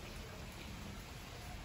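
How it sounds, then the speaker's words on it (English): Rain falls outside in Mexico as a soft, even hiss of drops, faint and steady throughout with no voices. "I'm just sitting outside, listening to the rain"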